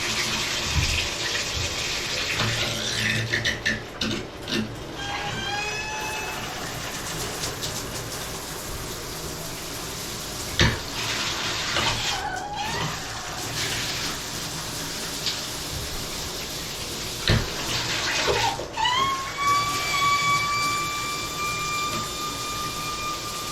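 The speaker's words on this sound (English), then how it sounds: "This is the noise my shower head makes when I engage the shower with this Delta spigot." A Delta shower spigot feeds a running shower head in a steady, loud rush of water, with shifting whistling and squealing tones rising and falling over the flow throughout.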